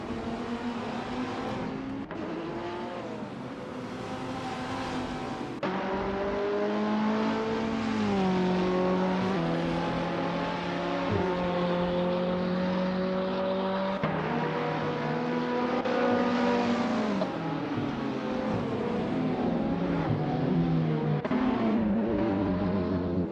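Supercars such as the Ferrari F8 Tributo race around the Seattle circuit in a racing video game. Loud, continuous engine whine rises and falls through gear changes and acceleration for the whole stretch, with no voices.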